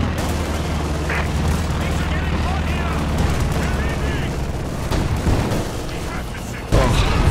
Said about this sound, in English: I detonated a Goliath on a retreating squad.